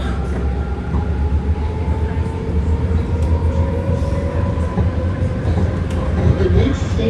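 A six-car BART Green Line train pulls out of Fruitvale station, a loud steady rumble with rising whining motor tones and rail noise that builds as it gathers speed.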